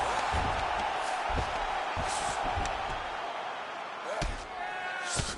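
Ground and pound punches landing in a UFC 251 bout, heard as a string of dull thumping impacts under constant arena crowd noise, with a commentator talking over the top.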